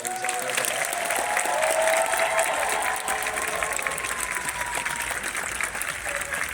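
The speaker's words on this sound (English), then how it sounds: "please a warm round of applause for Rosario Dawson." Sustained audience applause at a Fan Expo Boston panel for Rosario Dawson: a large crowd clapping steadily and loudly, swelling slightly, then holding an even roar with faint cheers mixed in.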